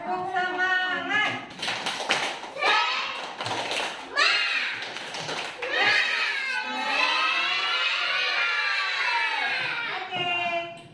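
Schoolchildren in a classroom perform the rhythmic tepuk semangat clapping chant, their voices and claps loud and close, building into a sustained shouted phrase toward the end.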